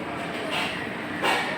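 An MRT train at Clarke Quay station in Singapore hums and rumbles at moderate distance, with two brief hissing swells over the steady rolling noise.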